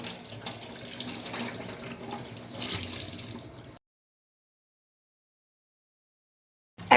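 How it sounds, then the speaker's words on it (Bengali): A pot being washed and filled with tap water, giving a running splash and rinsing noise for a few seconds that then stops abruptly into silence, with a brief sharp clatter at the very end. "এখন পাতিল ধুয়ে সেখানে পাতিলের অর্ধেক পরিমাণ পানি নিলাম।"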